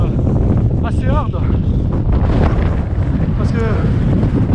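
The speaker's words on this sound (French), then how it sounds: "Le Mistral souffle à mort." Strong Mistral wind on a hilltop trail near Allauch in the Bouches-du-Rhône, a constant loud roar battering the microphone, with faint voices under the gusts.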